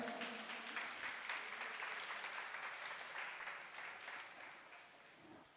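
Steady, continuous applause from a crowd at a Jain religious discourse, a dense wash of clapping that holds evenly throughout without pause.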